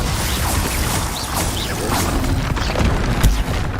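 A Glacius spell cast in Hogwarts Legacy combat, heard as a dense, loud rush of crackling, booming effects and whooshes filling the whole span without pause.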